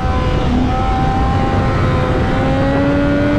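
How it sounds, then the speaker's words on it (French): A 2016 Triumph Daytona 675 R's three-cylinder engine revs loud and close, its smooth whining tone climbing steadily in pitch without a break. "Le 3 cylindres de chez Triumph."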